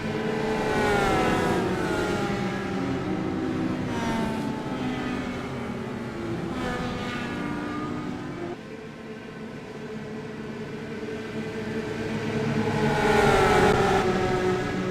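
Race cars accelerating hard at a green-flag restart in a short-track race, engines howling and rising in pitch as they pass close, with a louder surge near the end.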